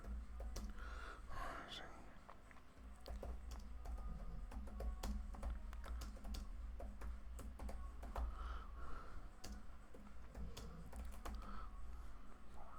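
Rapid computer keyboard typing in irregular bursts, close and fairly quiet, mixed with a man's sighs, breathing and muttered speech over a steady low background hum.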